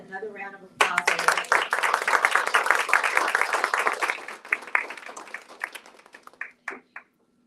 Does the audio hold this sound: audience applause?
yes